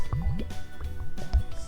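A whole Alka-Seltzer tablet fizzes in homemade lava lamp liquid, giving close wet popping, gurgling and dripping bubbles in quick irregular bursts.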